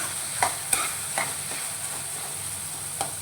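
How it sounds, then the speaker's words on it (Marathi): A spoon scrapes and knocks against a frying pan several times while tomatoes sizzle steadily underneath in spiced oil, with no talking. "आता ह्याला पूर्णपणे हलवून गळवते"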